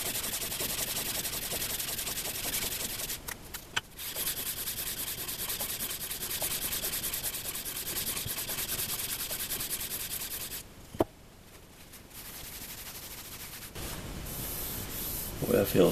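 Steady, light rubbing of 600 grit sandpaper over a guitar body, a continuous hiss with a few short pauses and one sharp tap partway through.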